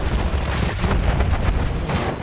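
A plane-dropped bomb bursts in a World War I battle game set on Monte Grappa in the Venetian Alps, 1918: loud, continuous booming rumble with layered blasts, like artillery, and no voices over it.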